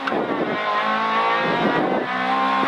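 Honda Civic VTI rally car engine accelerating hard on a special stage at the Rajd Jastrzębski 2014 rally, heard from close by: a loud, rising high-revving note climbs through gear changes, with brief dips between pulls.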